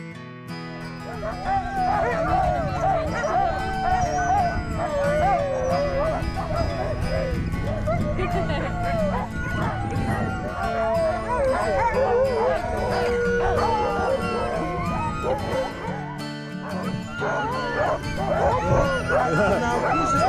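A large team of sled dogs in a Norwegian winter port barking, yipping, whimpering and howling excitedly together, a loud continuous chorus with people talking over it.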